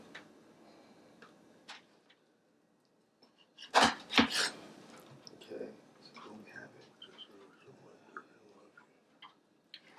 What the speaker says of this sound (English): slice it down a bit so that we're seasoning each piece of fish